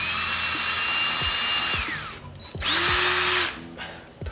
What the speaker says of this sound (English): Now we'll take an 1/8 inch drill bit, center it on this hole